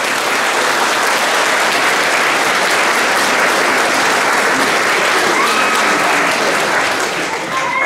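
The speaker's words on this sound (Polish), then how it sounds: "brawa dla mam." Loud, dense audience applause at a Christmas dance musical in Kietrz, a continuous wash of many hands clapping close by that holds steady throughout with little variation.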